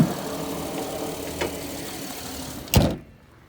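The 3.5-litre engine of a 2006 Honda Ridgeline four-door pickup with 243,000 miles idles under the open hood with a low, steady hum, broken by a soft knock midway and a louder thump near the end before it quiets.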